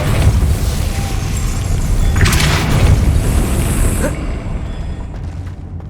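A Depulso spell cast in the video game Hogwarts Legacy sets off a loud, booming magical blast with a sharp burst near the middle, over dense rumbling game effects that fade toward the end.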